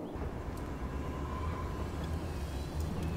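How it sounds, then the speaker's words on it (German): A tram runs through a city in Cities: Skylines, a steady low rumble with a faint whining tone and light metallic clicks, moderately quiet and continuous with no voices. "Straßenbahn."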